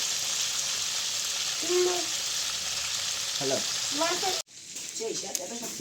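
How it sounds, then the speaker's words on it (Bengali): Pangas fish frying in oil outdoors in Barishal, a steady close sizzle under faint background voices, cut by a brief abrupt drop partway through. "মাছ ভাজাও চলতে আছে খাওয়াও চলতে আছে"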